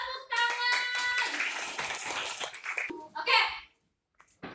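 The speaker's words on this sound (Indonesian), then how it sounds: "Tepuk tangan." Elementary school pupils in a classroom break into a burst of applause, many small hands clapping together for a few seconds amid children's voices and chatter, then quiet.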